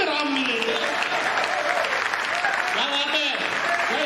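Dense, steady audience applause at a Hindi comedy poetry gathering (hasya kavi sammelan) in Ayodhya, a loud, continuous wash of clapping with shouting voices rising over it throughout.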